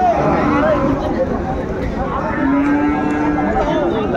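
Cattle lowing at a crowded rainy livestock market in Chittagong, with long drawn moos rising over steady loud crowd chatter and nearby talking throughout.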